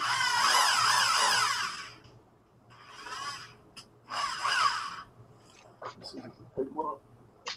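A power drill whines in several bursts while drilling holes for nuts on a CNC machine build, the first long and loud, then shorter runs, followed by faint clicks and a few soft sounds.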